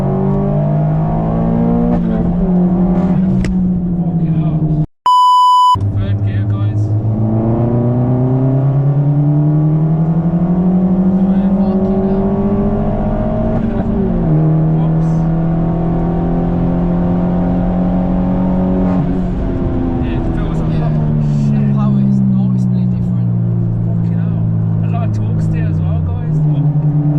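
A remapped Vauxhall Corsa VXR engine surges loudly, revs climbing steadily and dropping at each upshift as it pulls hard through the gears. It is heard from inside the car, with a brief electronic beep partway through.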